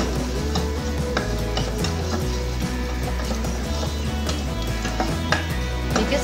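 Whole red chillies sizzling in oil in a pan over a low flame, a steady dense crackle with light clinks and taps of a utensil against the pan throughout.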